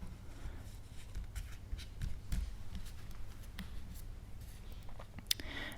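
Tarot cards slide and tap softly as they are picked and handled close by, quiet rustling with a few sharper clicks near the end, no voice.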